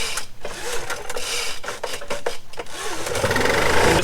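A pull-start lawn mower engine is yanked and catches, with a rasping cord pull and sputter before the motor settles into a loud, steady running buzz near the end.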